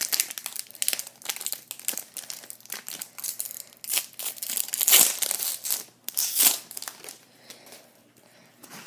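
A Bunt 16 baseball card pack wrapper is torn open and crinkled close up, with repeated sharp crackling bursts and two louder rips before it fades.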